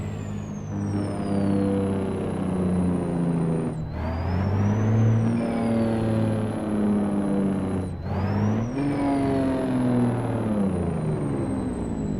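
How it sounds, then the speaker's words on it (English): A custom Peterbilt truck engine in American Truck Simulator, droning loudly as it accelerates through three gear shifts. Each shift brings a brief dip and a turbo whistle before the pitch climbs again, with no talking. "the sound profile on this engine is really good"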